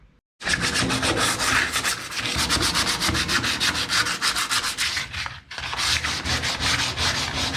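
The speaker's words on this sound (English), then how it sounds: "Right, hand sandpaper." Sandpaper is worked by hand over a new Chevrolet floor panel, a loud, close, continuous scratchy rubbing in quick back-and-forth strokes with a brief pause near the end.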